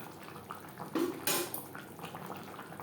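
Potato and pointed gourd tossed with ghee in a pan, a few close metallic scrapes and clatters of a spoon against the pan, with a brief louder clank partway through and soft background hiss.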